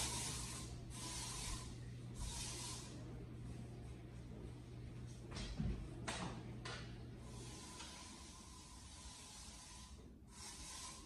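A spray bottle gives several short hissing bursts, spaced irregularly, close to the microphone in a quiet room.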